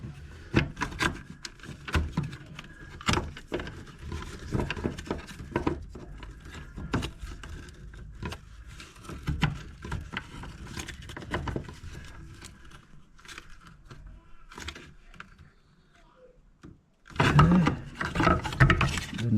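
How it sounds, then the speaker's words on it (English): Bathroom faucet nuts tightened with a small sink wrench, steady scraping, rubbing metal clicks and ratcheting scuffs under a sink, a short quiet pause, then a louder burst of handling noise. "we'll use my little sink wrench to tighten them the rest of the way"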